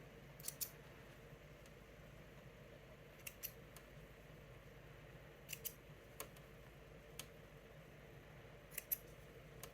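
Scissors snip threads while a quilt star block is sewn: several short, crisp, quiet snips, some in quick pairs, spaced irregularly over a faint steady background hum.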